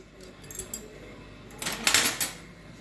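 Metal spoons clink and rattle as they are arranged in a spoon holder, a few scattered close taps early on, then a brighter cluster of jangling clinks, with no talking.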